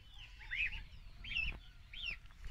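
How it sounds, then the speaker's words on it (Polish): Chickens in a farmyard with young geese, giving a few soft, distant clucks and short calls about every half second to one second over low background rumble. "już chodzą u kur tam z tyłu."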